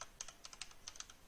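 Rapid typing on a computer keyboard while writing code for a Unity 5 first-person shooter tutorial, a quick run of about a dozen crisp, close key clicks with no pauses.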